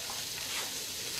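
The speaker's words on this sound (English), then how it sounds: "Now, we're going to kind of stir fry this for a little while." Green beans and onions stir-fry in a hot pan, a brief close hiss of sizzling with no voices.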